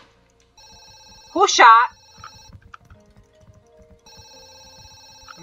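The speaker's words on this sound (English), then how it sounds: "Quickly, pick up the phone. It's from reception." A telephone rings in a Roblox Hotel Stories game, a repeating electronic ring in two bursts separated by a pause, with a brief spoken exclamation between them.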